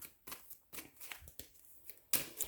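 Tarot cards being shuffled in quick, papery riffling bursts, several short rustling flurries close by with brief pauses between, the last burst the sharpest.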